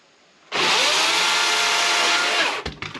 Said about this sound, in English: I told you it's a real chainsaw.